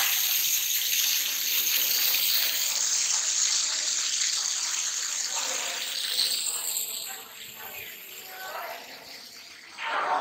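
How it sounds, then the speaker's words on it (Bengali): Water from a waterfall at the Ellora caves pours down in a steady hissing rush close by, with a voice speaking briefly over it near the end. "ঝর্ণার জল পড়ছে এখানে নিচে।"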